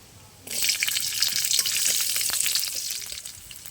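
Garlic hits hot oil tempered with black cumin for a Bengali kulfi sag dish, sizzling loudly from about half a second in and crackling steadily as it is stirred in the pan, with no talking.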